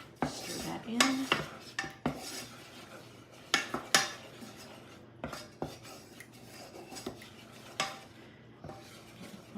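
A utensil stirring flour into a pan while making a roux for chili cheese fries, with sharp metallic clanks and scrapes against the pan at irregular intervals over a faint sizzle, no talking.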